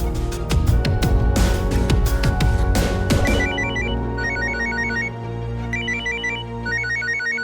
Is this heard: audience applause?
no